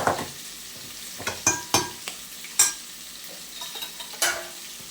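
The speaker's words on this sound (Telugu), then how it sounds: "ఇప్పుడు చిత్రాన్నం కలిపేస్తాం" Mango chitrannam rice is mixed with a spoon in a pan, making soft scrapes and sharp clinks at an uneven pace over a faint sizzle, close by and with no voices.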